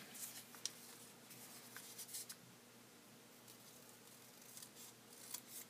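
Scissors cutting origami paper for a koi wind sock display, a series of faint, crisp snips spaced irregularly with quiet rustling between, close by and alone.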